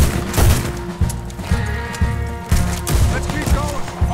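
Rapid gunfire rings out in the Red Dead Redemption 2 video game during a fight, with sharp shots landing about every half second in a regular, loud volley against a background of game sound.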